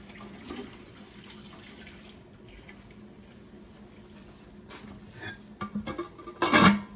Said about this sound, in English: then we'll wash this pot out